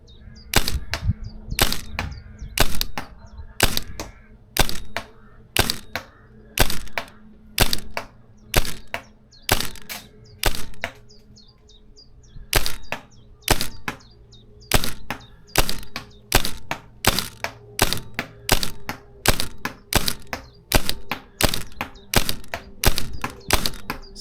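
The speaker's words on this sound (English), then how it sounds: "dumping about 20 shots into an empty cardboard box" A Tippmann V1 airsoft rifle fires around twenty shots into an empty cardboard box, each a sharp crack-thunk of a BB striking cardboard, delivered in quick bursts with brief gaps, loud and close with no talking.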